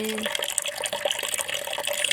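Water running steadily from an outdoor water source while containers are filled, a continuous splashing flow heard close by without talk.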